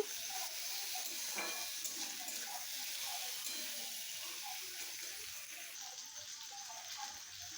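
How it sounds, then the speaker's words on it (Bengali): Chopped tomato and onion fry together in a pan, giving a steady, moderate sizzle and crackle that stays fairly even, with no one speaking. "টমেটো আর পেঁয়াজ দিয়ে ভালো করে ভেজে নিচ্ছি"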